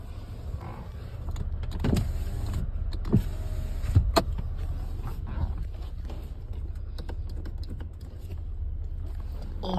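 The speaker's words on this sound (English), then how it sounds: "Only that window wants to go up and down." A car's electric window motor whirs in short runs, moving up and down, with faint clicks and low cabin rumble throughout.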